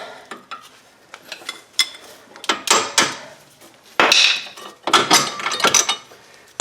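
Metallic clanks and knocks come from a wrench working a strut bolt loose on a 2007 Ford Edge front suspension. The sharp, irregular clatters are close by, with a louder hit near the end.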